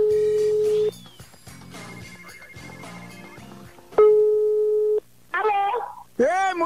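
Repeated telephone busy signal beeps, steady tones broken by short gaps, on a redialled prank call, followed by bursts of electronic tones and chirps.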